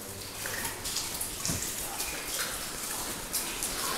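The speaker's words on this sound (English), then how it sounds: "you can hear the water just seeping in and dripping" Water seeping and dripping inside an icy abandoned tunnel, a soft continuous trickle with scattered drips echoing close by.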